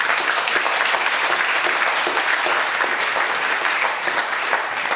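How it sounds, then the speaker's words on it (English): Dense, sustained audience applause for a panel discussion on green cooperation between China and the EU, steady and full throughout with no voices on top. "Would you give them a round of applause, please?"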